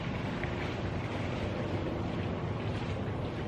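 Strong outdoor wind roars and buffets the microphone in a continuous, loud rumble during a liquid nitrogen demonstration, with no speech.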